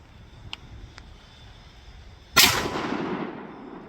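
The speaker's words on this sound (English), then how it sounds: "30-30 Winchester punched a hole straight through it" A single sharp 30-30 Winchester rifle shot cracks out at a steel training vest plate, loud and sudden after two faint clicks, with a short ringing decay trailing behind the blast.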